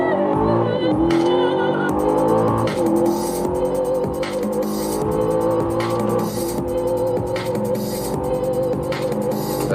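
A 2023 Audi RS Q8 engine pulls hard at high speed, loud and rising in pitch with gear changes and a screaming tone over road and wind noise.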